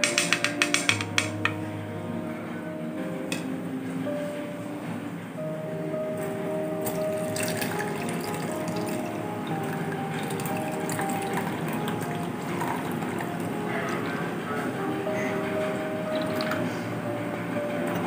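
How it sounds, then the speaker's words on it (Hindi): Homemade apple vinegar is strained, with liquid trickling and dripping steadily in the foreground, plus a few light clinks of a container at the start and faint kitchen sounds behind. "और फिर छान लेते हैं।"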